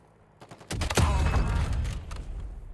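A burst of rapid gunfire in Warzone erupts after a few faint clicks, then continues as a dense, sustained rattle of shots with no talking.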